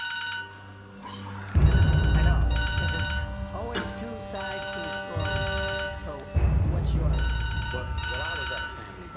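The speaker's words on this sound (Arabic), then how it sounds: "موبايلك بيرن" A mobile phone rings in a dramatic scene, with repeated tonal ringtone bursts over a musical backdrop and voices speaking around it.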